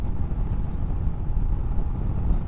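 A 2021 Royal Enfield Himalayan motorcycle engine cruising in fifth gear gives a steady, low droning rumble with wind buffeting the microphone, continuous and fairly loud throughout with no talk.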